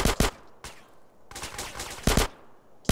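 Gunfire in GTA San Andreas, with several sharp, loud shots landing in separate bursts over a few seconds, no talking.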